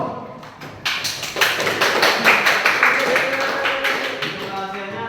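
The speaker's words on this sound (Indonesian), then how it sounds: "Tepuk tangan untuk kelompok 1." Classroom applause for a student group, a few seconds of lively clapping from many students that starts quickly, stays full and slightly uneven, then thins out, with a brief voice beneath.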